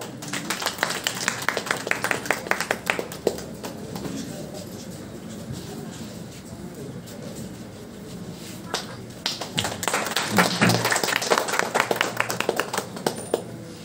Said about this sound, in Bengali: আমরা একটু করতালির সাথে তাকে অভিবাদন জানাবো